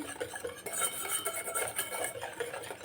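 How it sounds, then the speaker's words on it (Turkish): A utensil stirs chocolate sauce in a bowl with a steady, close scraping and clinking against the sides, rhythmic and continuous with no talking. "Şimdi güzelce şöyle bir karıştıracağım."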